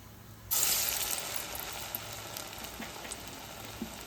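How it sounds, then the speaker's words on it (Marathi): Medu vada batter drops into hot oil and the frying bursts into a sudden loud hiss, then settles into a steady bubbling sizzle with small pops. "आता वडा सोडूया।"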